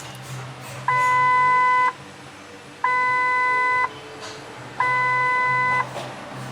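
Ford F-150 warning chime with key on and engine off: three loud, steady electronic beeps, each about a second long, spaced evenly about a second apart over a low cabin hum.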